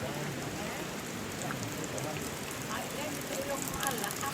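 Steady rain falls in a dense, even hiss at an outdoor gathering, with drops pattering on surfaces throughout and no break in the sound.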